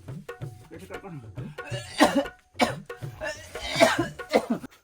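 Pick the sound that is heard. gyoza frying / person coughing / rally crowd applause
person coughing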